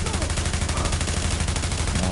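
Continuous automatic gunfire in The Division video game, dense and loud, rattling steadily throughout with no pause.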